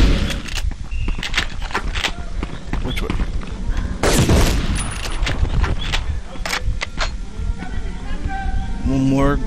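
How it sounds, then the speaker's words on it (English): Shotgun blasts in the PlayStation game Medal of Honor during a sewer chase mission, loud booming shots scattered through busy combat noise, with a player talking throughout. "I'm tearing it up with this shotgun"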